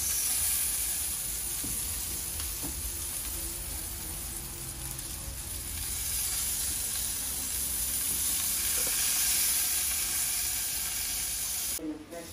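Corn cobs sizzling on a grill alongside chicken inasal, a constant close hiss and crackle that swells slightly midway, with a short sharp clatter near the end.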